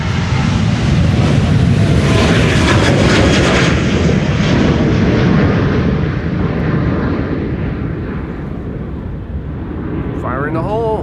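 A KLM airliner departs from runway 36L, the Polderbaan, at Amsterdam Schiphol, with a loud, sustained jet-engine roar that fades gradually as it recedes. A brief voice comes in at the very end.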